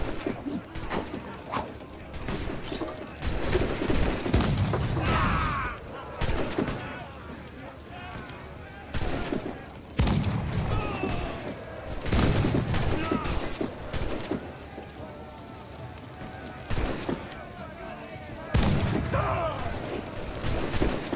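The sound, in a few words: ship cannon fire in the video game Assassin's Creed IV Black Flag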